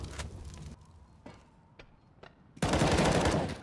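Counter-Strike rifle fire in a competitive match: a few sharp, separate shots ring out with spaces between them, then a dense loud burst of sustained firing erupts near the end.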